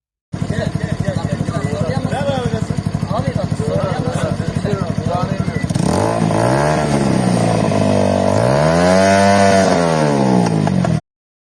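A motorcycle with a loud modified exhaust idles with a rough, rapid rattle, then revs up sharply in several rising and falling roars, close by, during a traffic police stop.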